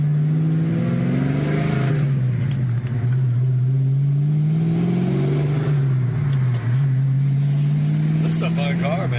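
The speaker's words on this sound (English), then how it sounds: "There's no better sound than this exhaust here." A car's exhaust drones loud and close in a steady, rising and falling engine note that swells with revs over several seconds, with people talking over it.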